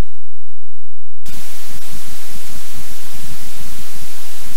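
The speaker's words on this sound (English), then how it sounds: "This is just like solid noise." Steady, loud white noise from an emulator's audio output, with no ramping or change in level. It bursts in abruptly after about a second of silence and holds flat to the end.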